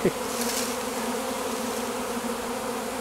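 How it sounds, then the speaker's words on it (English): A constant whirring drone of a honeybee swarm, dense and unbroken, filling the air evenly for the whole stretch. "It's just all you hear is a constant whining, whirring sound. It's like I'm staying in the middle of a bee storm."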